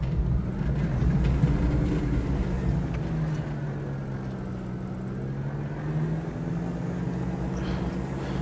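Airliner taxiing along a runway in Microsoft Flight Simulator 2020, giving a steady low engine rumble with a drawn-out droning hum that holds roughly even throughout, with no talking.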